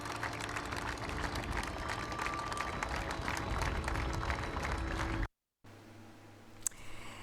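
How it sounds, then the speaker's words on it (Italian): A crowd lining the route applauding at the funeral of the cavaliere, a long steady wash of distant clapping that breaks off abruptly, followed by quieter outdoor ambience with a single sharp knock. "l'ultimo applauso al cavaliere"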